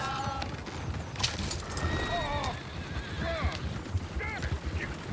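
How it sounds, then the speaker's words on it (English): In Red Dead Redemption 2, several horses whinny and snort over a steady clatter of hooves, with faint voices mixed in among the busy animal noise. "Oh, shit, the horses! Damn horses."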